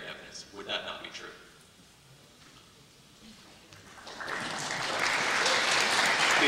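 Audience applause rises in a debate hall, starting faint with scattered claps and voices, then swelling to a loud, sustained round that continues to the end.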